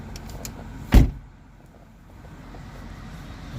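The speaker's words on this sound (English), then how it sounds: "Guess I gotta close my door first." A single solid thump of a 2016 BMW X5 car door shutting, followed by quiet cabin hum.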